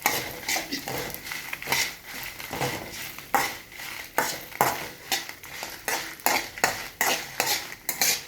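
Cumin seeds dry-roasting in a pan while being stirred, with repeated sharp scraping and clinking strokes of a utensil against metal in an uneven rhythm, close and fairly loud, no voices.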